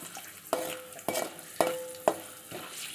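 Beetroot for halwa being fried and stirred in a pan, with four sharp scraping strokes at a steady half-second rhythm over a faint background sizzle, close and fairly quiet, no talk.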